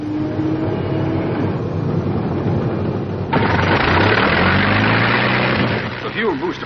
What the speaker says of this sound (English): Starting engine.